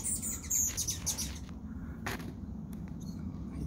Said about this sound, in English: Hummingbird battles all day.